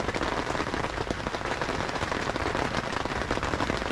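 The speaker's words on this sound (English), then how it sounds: "windy, rainy, storms" Heavy rain lashes down steadily in stormy, windy weather on a mountain road near the Eagle's Nest, a dense continuous roar of drops close by with no pauses.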